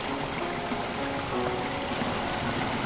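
Water moves steadily through a rebuilt garden pond water feature in Jacksonville, a continuous close trickling and rushing wash that holds an even level for the whole stretch with no voices.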